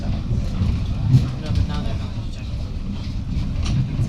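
Steam train running in the Lake District, a low continuous rumble of the train in the background with a faint rattling, while people talk over it.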